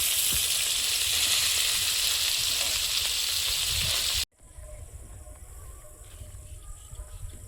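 Gobo fish frying in oil gives a loud, continuous hissing sizzle up close that stops abruptly partway through, leaving a quiet room with faint background noise and insect-like chirps.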